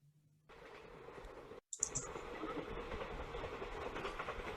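A train runs steadily along rails with a continuous rumbling clatter, briefly cut by a short gap and a faint high whistle-like tone, as a radio drama sound effect with no voices.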